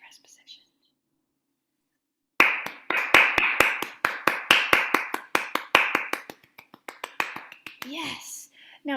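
A violin teacher claps hands in a quick run of about twenty sharp, close claps after a quiet pause, the rhythm loosening toward the end, with soft whispering voices around them.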